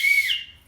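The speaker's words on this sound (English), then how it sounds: "I'm going to blow the whistle." A single sharp whistle blast, loud and close, holding steady before tailing off over less than a second, alone without voices.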